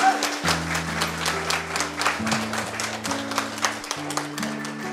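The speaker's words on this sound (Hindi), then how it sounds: "जबरदस्त तालियां" Sustained audience applause welcoming a speaker on stage at a motivational business seminar, dense clapping filling the whole stretch with a steady loud texture over sustained background music tones.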